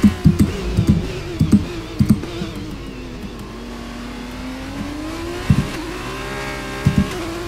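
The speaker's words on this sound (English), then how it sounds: "See, a lot of wheel spin at turn 3 going up the hill" An F1 23 race car spins its wheels and revs hard uphill at turn 3 of the Austria circuit, a loud close engine whine rising and falling with sharp gear-shift pulses, with no one talking.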